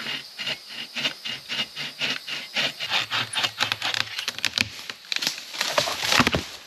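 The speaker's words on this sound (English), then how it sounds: "Fixing to cut this dead tree down behind me here." A saw cuts through a dead tree about 6.5 inches thick outdoors, its steady back-and-forth strokes rasping loud and close in an even rhythm, with no talking.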